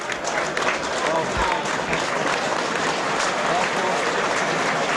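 A rugby league stadium crowd in Halifax applauds a departing player, a broad steady wash of clapping and crowd noise heard from a distance, with a commentator talking over it.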